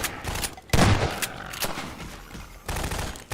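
Gunfire in Half-Life 2 cracks out in loud, sharp bursts against enemy snipers, with a heavy blast near the start and more shots following at irregular intervals.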